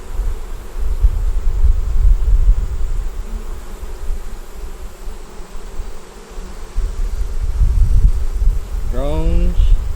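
Honeybees buzz steadily around an open hive frame holding honey, brood and nectar, a dense low drone with faint wind, and a brief higher squeak near the end.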